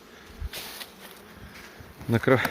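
Carniolan F1 honey bees buzz around swollen hive frames during a honey harvest, a steady close drone that swells into a louder, harsher burst near the end.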